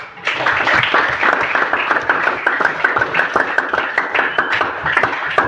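A classroom group claps hands during a school guidance lesson, loud and close with individual claps audible in a steady, slightly uneven rhythm throughout.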